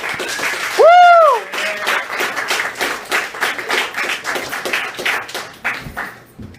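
Scattered clapping and cheering from a small crowd at a live music venue welcoming a performer, with a sharp whoop near the start and uneven individual claps that continue under rising voices.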